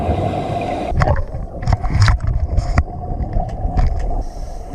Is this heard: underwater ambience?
yes